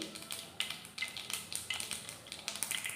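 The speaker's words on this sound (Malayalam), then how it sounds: "നമ്മുടെ കടുക് പൊട്ടി" Mustard seeds splutter in hot oil while making lemon pickle, a quiet crackle of rapid irregular pops and little bursts repeating across the whole stretch.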